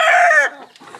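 Rooster crowing, a young American Thai stag from a white Radio cross over an American Thai hen, giving one loud close crow that breaks off after half a second into quieter farmyard noise.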